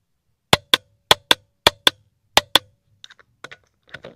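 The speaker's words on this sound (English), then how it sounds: "sometimes when you go to a lesser amount, the click is not as pronounced, but still a very pronounced click" Milwaukee 1/2-inch 250 ft-lb click torque wrench snapping out crisp, close metallic clicks in paired bursts, followed by a few fainter, softer clicks at a lower setting.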